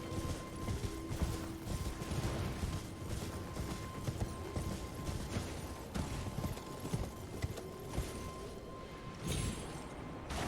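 Torrent, the spectral horse in Elden Ring, gallops in a steady, rapid drumming of hooves that runs the full length with little change, alongside a low ambient game hum.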